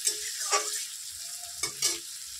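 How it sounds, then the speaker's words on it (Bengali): Onions fry gently in a little oil over a low gas flame. A soft crackling sizzle is broken by several short scraping stirs of the pan. The sound is fairly quiet and close, with no talking. "এবার গ্যাসের ফ্লেমটা কমাইয়া দিয়া পেঁয়াজটা ভাজলাম।"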